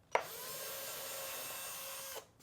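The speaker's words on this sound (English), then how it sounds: "Drilling just a little bit of a hole here." Small drill boring a short hole in a workpiece while a bandsaw circle jig is being built, a single steady whirring run of about two seconds, close and fairly quiet, with no talk.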